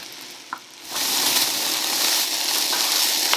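Mixed vegetables hit a hot pan and burst into loud, steady sizzling that carries on without a break, close by and with no talking over it.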